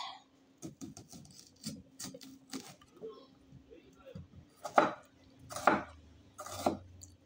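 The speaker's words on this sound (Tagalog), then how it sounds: "Hiwain natin ang sibuyas." Knife chopping onion for a Filipino radish (labanos) salad: a series of sharp, irregular cuts on a board, clustering into several louder strokes toward the end, with a steady low hum underneath.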